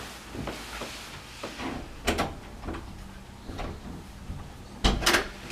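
Someone works at a locked house door to force it open, producing a series of knocks, rattles and thuds at uneven intervals, with a sharper, louder bang and rattle near the end; no one speaks.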